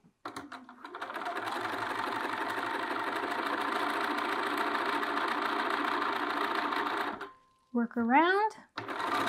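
A sewing machine stitches the second line of a sleeve seam at 5/8 inch, a steady close mechanical whir running continuously for about seven seconds, then stopping before brief talk resumes at the end.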